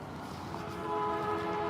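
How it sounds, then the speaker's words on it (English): A horn sounds with a sustained steady tone over a background rumble, starting partway through and holding to the end, fairly close and clear. "The horn is going off right when I start walking in."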